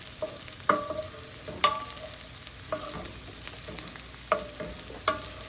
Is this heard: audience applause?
no